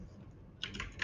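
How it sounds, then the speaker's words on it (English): Brief burst of computer keyboard typing, a few quick close key clicks arriving after a quiet moment, entering a web page address. "to do that I will have to type in"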